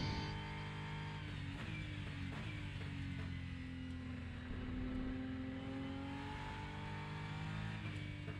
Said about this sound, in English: There's lots of pops and baubles there from the engine.